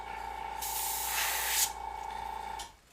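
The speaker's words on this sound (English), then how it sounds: "Now this one's not spraying great." A poorly working spray nozzle lets out one uneven burst of hissing spray lasting about a second. A weaker trailing hiss follows, over a steady faint background hum.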